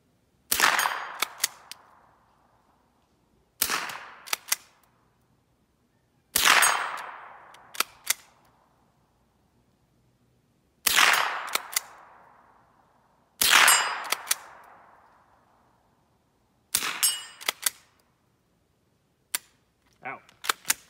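Remington Model 12-C .22 rifle firing: six loud, close, sharp cracks spaced a few seconds apart, each trailing a short echo and followed by lighter metallic clicks.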